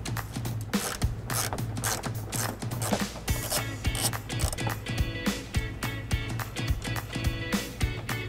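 A long bolt comes out of the frame of a 2015 Audi Allroad during trailer hitch installation, with a rapid, close ratchet clicking in steady repeated bursts and metallic mechanical turning throughout.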